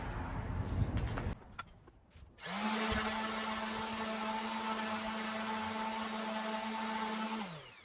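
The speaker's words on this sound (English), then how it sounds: "So I'm just going to sand it out and use the wood." A power sander works over painted wood: after a short burst of rough noise, the motor spins up into a loud, steady whine that holds for about five seconds, then winds down. No one speaks.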